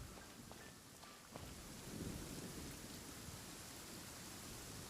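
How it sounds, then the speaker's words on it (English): Heavy rain pours steadily in a video game scene, a broad continuous hiss with faint low rumbling and a few soft thuds, loud and unbroken throughout with no talk. "This heavy rain must be quite an inconvenience for you."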